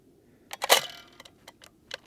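A rifle bolt being cycled during bolt-action practice: a quick series of sharp metallic clicks and clacks, one louder central clack among several lighter ticks, close and dry with no talk.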